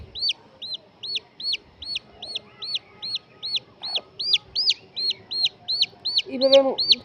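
Chickens in a backyard coop give a rapid, regular string of sharp high peeps, about twenty in quick succession, with a lower, louder cluck near the end against a quiet background.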